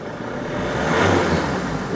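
Volvo C30 2.0D diesel engine running with a steady, fairly loud broadband rumble and hum, a slight swell in the middle of the short stretch; no starter crank is distinct, just continuous close engine noise.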